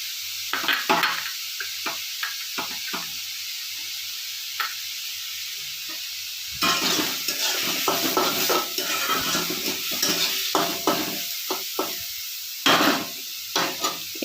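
Grated carrots stirred and fried in a pan with minced ingredients for a tasty tiffin: close sizzling under repeated scraping and clinking of a utensil against the pan, getting louder and busier midway, with no talk.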